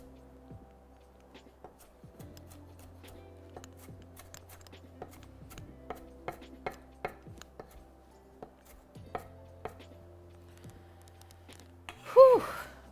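A knife chops shallot on a cutting board, a series of sharp, irregular taps spread across the clip, close and fairly quiet, ending in a louder clatter.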